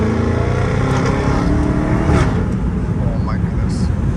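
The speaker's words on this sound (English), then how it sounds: "open the window, you can hear the exhaust so well." A Dodge Challenger Hellcat Redeye rated at 797 hp sends a steady, loud exhaust drone through an open car window, rising slightly as it accelerates.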